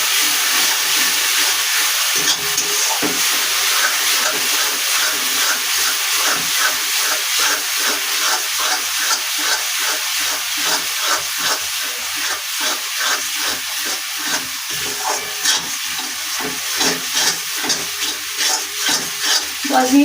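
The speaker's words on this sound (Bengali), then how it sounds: "দশ মিনিট ধরে আমি মশলাটা কষিয়ে নিলাম" Meat masala spices frying in a pan, a steady loud sizzle with rapid stirring scrapes throughout, no voices.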